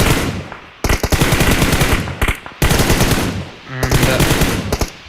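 Rapid automatic gunfire bursts from a battle royale video game, loud repeated volleys with short pauses between them, no talking.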